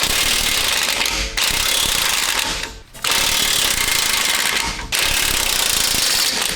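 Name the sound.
power tool loosening truck U-bolts with 13/16 socket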